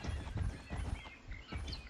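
A horse walks in an Unreal Engine 4 game, giving a few soft hoof clops at an even pace over a muffled low rumble, with no voices.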